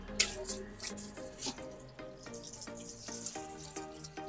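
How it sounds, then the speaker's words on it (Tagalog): A high volume of water sheeting off car paint treated with graphene spray, heard as irregular close splashes and running water with dripping sounds over several seconds. "Check naman natin yung water sheeting niya o yung high volume naman na tubig."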